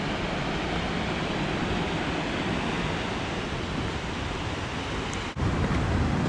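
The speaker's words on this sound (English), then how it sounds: "The water just bursts out of the mountain." Water bursts out of a mountainside high on the Zugspitze, Germany's highest mountain, in a loud, steady, close roar of gushing flow, with one brief dip before the torrent surges back.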